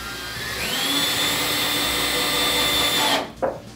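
Power drill driving a shelf screw into a drywall anchor while installing a floating wall shelf: a steady whirring motor that rises in pitch and runs for about two and a half seconds, then cuts off with a brief clunk as the screw seats.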